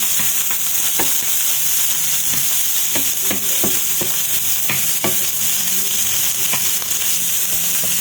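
Chicken gizzards frying in a pan with chili, a continuous loud sizzle broken by frequent clattering scrapes and knocks of a utensil stirring them.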